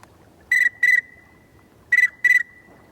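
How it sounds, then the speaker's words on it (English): An inexpensive duck whistle gives pintail calls: two pairs of short, clear, high whistled notes, each pair quick, with a pause between the pairs and a thin tone lingering after the first. "with this duck whistle, you can make calls that the pintails like"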